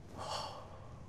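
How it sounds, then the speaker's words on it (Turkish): One deep breath exhaled during a guided relaxation exercise: a close, soft, breathy rush lasting about a second, heard alone. "Derin bir nefes al."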